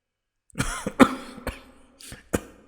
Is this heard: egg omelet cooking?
no